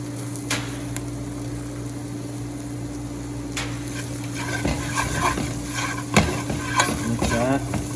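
Onions cooked until translucent sizzle quietly in a pan as salt and pepper go in and they are stirred, with faint frying hiss under scattered scraping and tapping of the utensil against the pan, no talking.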